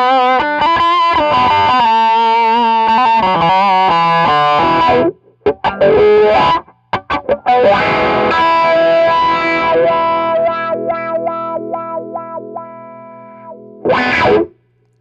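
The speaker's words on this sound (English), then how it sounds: "I'm playing an Atelier guitar going through a Hot Rod Deluxe." An Atelier electric guitar played through a wah pedal into a Fender Hot Rod Deluxe amp gives distorted, sweeping wah notes and chords, then brief pauses and a long sustained phrase that fades out.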